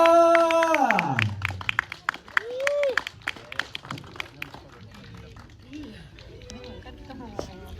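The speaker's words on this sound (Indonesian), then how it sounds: "Dan kita beri tepuk tangan selanjutnya kepada pemeran Saidah Givina." Audience applause for an actor at a film press conference, clapping rising in brief bursts alongside an announcer's voice and other talk, with scattered claps continuing through the clip.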